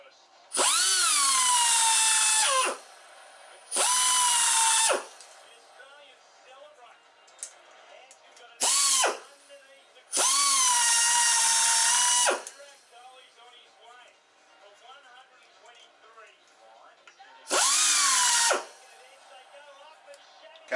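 A rotary tool ports an RB25DET cylinder head in five loud, high-pitched whining bursts of a few seconds each, separated by quieter gaps with low background noise.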